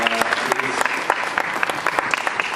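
Audience at a flood disaster recovery seminar gives a round of applause for an organizer, the clapping brisk and fairly close with distinct individual claps, while a voice briefly sounds near the start.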